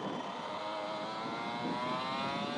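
A racing kart fitted with a KF2 engine drones steadily at high revs during a British Karting Championship test session, a constant buzzing engine note with no talking.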